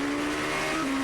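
A GP2 race car tears along a circuit in Spain at the 2006 GP2 Series, giving a brief loud, sustained high-pitched engine scream that dips slightly near the end.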